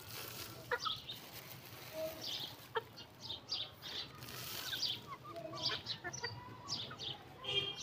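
Chickens cluck and peck at millet close by, with scattered soft clucks, wing flutters and scratching sounds over a quiet background.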